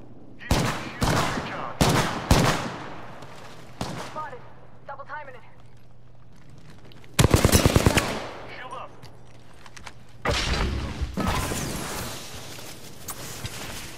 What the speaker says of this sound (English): Taking fire, brother. Target over there. Oh, where's that other team firing from?